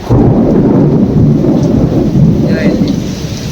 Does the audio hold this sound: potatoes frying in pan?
no